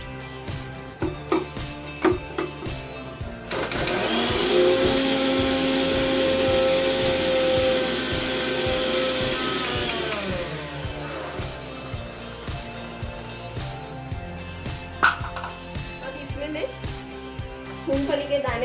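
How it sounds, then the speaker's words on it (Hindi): A mixer grinder grinds curry leaves for a dry chutney, a loud steady whirring burst lasting several seconds, with quieter kitchen clatter before and after. "अब मैं ये कड़ी पत्ता थोड़े थोड़े करके ग्राइंड कर लेती हूँ।"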